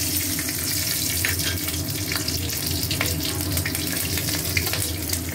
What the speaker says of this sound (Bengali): এবারে ফোড়ন দিচ্ছি।